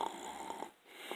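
A man imitates snoring with his voice, making rasping, rhythmic snore sounds close to the microphone, with a short pause before a final snort.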